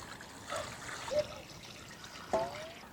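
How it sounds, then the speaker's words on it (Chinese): Water trickles and splashes lightly as a whole chicken is rinsed clean, with soft irregular dribbling and two slightly louder splashy bursts, fairly faint and close, with no talking. "这个鸡把它清洗干净"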